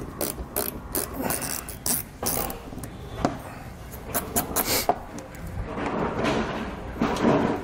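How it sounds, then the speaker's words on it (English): A hand wrench holding a Phillips head bit ratchets out screws while fitting a Draw-Tite Class III trailer hitch to a 2018 Subaru Outback Wagon, giving repeated quick close clicking bursts in a steady rhythm with brief pauses. "If you don't have a little wrench like this, a regular wrench that will hold that Phillips head bit will work just fine."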